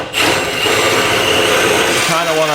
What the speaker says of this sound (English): now we're gonna use this 9/16 drill bit to drill this out